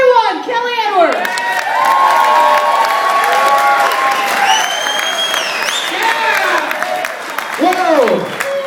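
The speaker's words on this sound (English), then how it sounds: "I want you to give a warm welcome for Kelly Edwards" Comedy club audience applauding and cheering steadily for a comedian taking the stage, with whoops and shouts over dense clapping that stays loud throughout, and a voice speaking over the crowd near the end.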